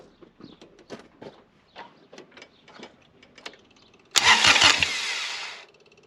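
A 1986 Cub Cadet 1512 diesel engine with an upgraded starter gives quiet ticking and clicking, then cranks and catches in a loud, sudden start that settles into a steady running roar before cutting off.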